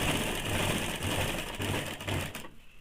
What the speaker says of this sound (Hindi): अब इसको हम लोग पूरी वी शेप में सिलाई कर लेंगे